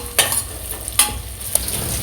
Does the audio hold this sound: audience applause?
no